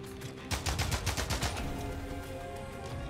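Rapid assault rifle fire in the first-person shooter Immortal Redneck, a fast burst of close, loud shots over roughly a second, then a lingering echoing tail.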